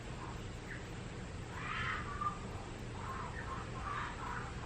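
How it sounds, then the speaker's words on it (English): A bird outside gives faint, shrill screeching calls in a few brief bursts, distant and muffled against a quiet background hum. "a bird outside that sounds like it's screaming"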